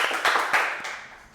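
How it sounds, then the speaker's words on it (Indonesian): A classroom group claps during a microteaching session, a short burst of several hand claps that quickly thins out and fades, with no talking over it. "Oke, beri tepuk tangan kepada kita semua."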